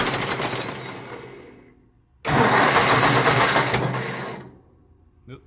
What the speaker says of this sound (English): So I'm gonna crank the tractor with it right here